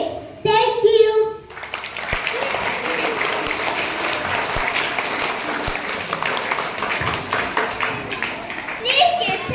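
An audience at a school English Day celebration applauds a child's recitation: a brief young voice, then loud, sustained clapping from many hands close by for several seconds.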